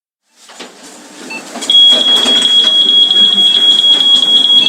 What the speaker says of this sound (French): À la sortie du magasin, le bip sonne.